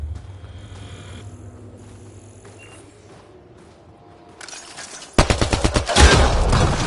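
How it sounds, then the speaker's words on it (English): Rapid bursts of gunfire in the Mass Effect Andromeda video game, aimed at a Kett device, break out loudly after several seconds of quiet ambient game hum and continue as dense, sustained shooting. "Shooting the device will destroy it."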